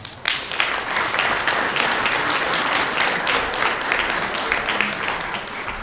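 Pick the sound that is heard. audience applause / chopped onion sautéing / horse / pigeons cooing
audience applause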